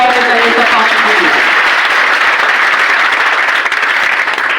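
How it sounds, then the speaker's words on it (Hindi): Audience applause following a stage performance at a World Pharmacy Day event, a dense, loud, steady wash of clapping from a crowd lasting throughout, with a few voices briefly audible early on. "एक बार जोरदार तालियां होनी चाहिए"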